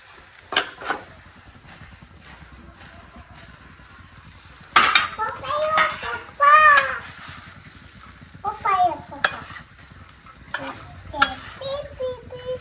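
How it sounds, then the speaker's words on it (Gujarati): Oil sizzles and crackles in a pan as a tempering for Gujarati cluster-bean dhokla cooks, with bursts of stirring and clinking utensils, under occasional talking nearby. "મસ્ત વઘાર થઈ ગયો છે"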